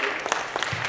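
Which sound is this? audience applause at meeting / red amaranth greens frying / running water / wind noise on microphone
audience applause at meeting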